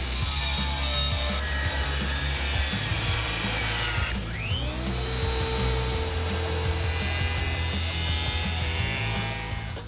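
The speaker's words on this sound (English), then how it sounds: "We're gonna run through the table saw, miter them" A table saw rips and miters wooden trim boards for a cabin renovation, a continuous loud whirring cut with the blade pitch rising and falling as wood feeds through, and a spin-down midway before cutting resumes.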